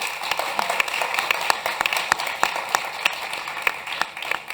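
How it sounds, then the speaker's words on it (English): Scattered clapping from a small audience at a panel talk, crisp individual claps overlapping in an uneven patter, fairly close and steady throughout. "Round of applause for Amy."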